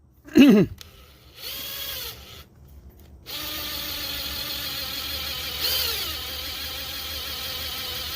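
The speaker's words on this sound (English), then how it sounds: "And drill the other one." A power drill whirs in short bursts, then runs steadily as it bores into the metal of a Kohler engine's PTO-side oil seal, the pitch shifting slightly under load.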